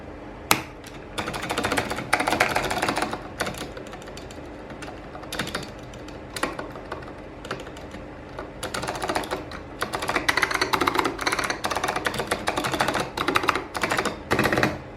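Space bar on a KBParadise V60 keyboard with lubed Alps stabilisers pressed repeatedly, giving sharp close clacks in irregular bursts mixed with quick key-typing clatter and no talking.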